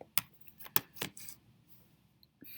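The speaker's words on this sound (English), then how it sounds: "in my calculator, I'm going to go ahead and type that in" Quick clicky taps on calculator keys while entering a large exponent problem, a few sharp separate presses spaced out over a couple of seconds, close and fairly quiet.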